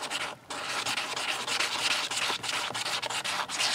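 Sandpaper rubbed over a polymer clay egg makes a close, dry, rasping sound in quick repeated back-and-forth strokes, with a brief pause near the start and no voices.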